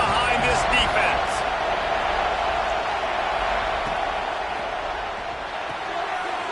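A stadium crowd at a college football game between Ole Miss and NC State roars steadily for the defense on a big third down, a dense, sustained wash of cheering that fills the whole clip with no break.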